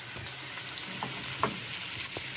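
Carrots dropped into a pan where onion has been softening, giving a gentle, steady frying hiss with faint spatula scrapes, close but fairly quiet.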